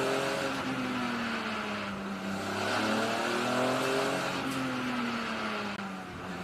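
BMW race car from the CSCC BMW Championship on its formation lap at Oulton Park, a steady loud engine drone with shifting pitch as it weaves, plus tyre noise, heard from inside with the window open.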